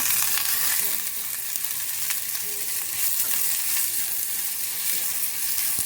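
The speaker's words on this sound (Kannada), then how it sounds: "ಅಲ್ಲಿವರೆಗೂ ಚೆನ್ನಾಗಿ ಫ್ರೈ ಮಾಡ್ಕೋಬೇಕು" Grated coconut frying in oil in a pan gives a steady, dense sizzle throughout, close and even, with no talking over it.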